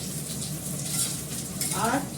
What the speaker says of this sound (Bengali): মুসুর ডালটা ফোড়ন দেবো, এটা আগে করে নিই।